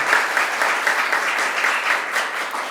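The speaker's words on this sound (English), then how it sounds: "Let's give them another round of applause." A short burst of audience applause at a bill-signing event, brisk steady clapping that fades a little at the close.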